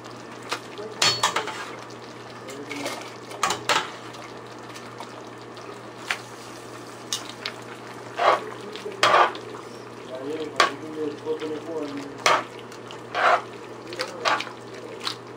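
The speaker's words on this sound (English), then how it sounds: "All we're gonna do now is put our pasta directly in and get the pasta dressed." Pasta tossed in a pan of white garlic sauce with chicken, tongs and utensils clinking against the pan in scattered, close knocks and scrapes over a soft wet stirring sound and a low steady hum.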